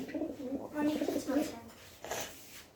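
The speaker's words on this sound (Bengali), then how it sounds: "আমেরিকান লাক্ষা দেখতেছি এই যে মডেরা কবুতরও দেখতেছি" Madeira and American Lakha pigeons coo softly in a few low, throaty bursts while a person talks over them nearby.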